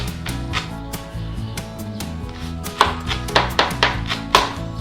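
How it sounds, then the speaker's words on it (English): Knife slicing through a lime-scented ingredient on a cutting board for a Penang shrimp curry, a string of crisp cuts rising in pace toward the end over steady background music. "we're going to take a knife and we're going to nicely slice across, so we get little slices"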